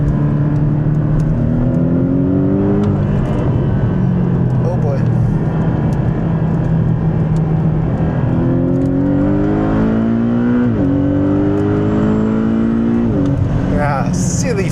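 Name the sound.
Porsche 718 Boxster GTS engine accelerating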